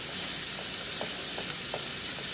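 Chicken pieces fry in a pan with a constant bright sizzle, close and steady throughout, with a few soft pops rising above the hiss.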